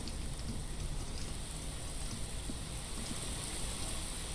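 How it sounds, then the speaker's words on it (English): Steady rain falling in the Blue Prince video game, a continuous soft hiss of drops at an even level throughout, with no voices. "It is also raining"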